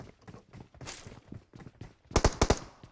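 Enemy gunfire in PUBG Mobile: a rapid, close burst of four or five sharp shots near the end, after scattered lighter footstep-like taps and rustling.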